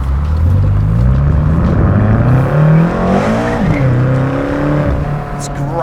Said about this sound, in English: This is all just the natural sound of the V8.